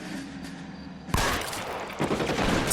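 Gunfire erupts in an L.A. Noire shootout, loud bursts of shots, a sharp onset followed by dense rapid fire that swells again near the end.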